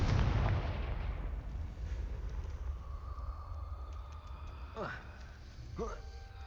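A Confringo fire spell blast in Hogwarts Legacy, a heavy booming burst at the start that rumbles and fades, followed by lighter magical whooshes, with game sounds continuing underneath.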